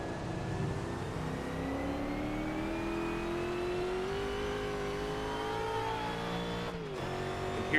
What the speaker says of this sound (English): You hear the Nissan back there screaming in the way.